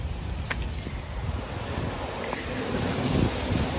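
Strong gusting wind rushes through trees and shakes leaves loose on a city street in Toronto, buffeting the microphone in a steady loud roar with a few faint background clicks and no speech.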